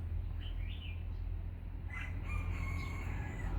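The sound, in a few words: Lao rooster crowing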